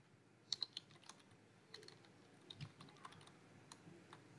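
Quiet, irregular clicks of computer keyboard keys as values are typed into a text field, in scattered short runs of light taps with no talking.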